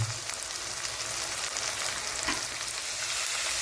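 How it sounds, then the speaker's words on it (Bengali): Capsicum and mixed vegetables for chow mein fry in a hot pan, a steady loud sizzle with occasional stirring scrapes, no voices. "এবার এই সমস্ত কিছুকে ভালো করে আমরা ভেজে নেব"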